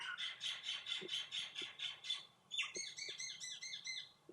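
Birds chirp and squawk repeatedly in a steady, rhythmic series of bright calls, fairly close, with a second bird's quicker calls joining near the end.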